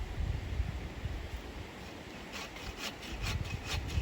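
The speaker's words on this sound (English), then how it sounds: "you can hear Grandad sawing wood" A hand saw cuts firewood at a campsite at Usha Gap in the Yorkshire Dales. The rhythmic back-and-forth rasping strokes sit fairly close, with quicker, sharper strokes toward the end.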